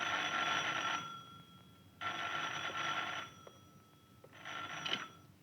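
An old-fashioned telephone bell rings in an office in the 1961 film Hochwürden Don Camillo, sounding in three long trilling bursts separated by brief pauses, clear and fairly close with no talk over it.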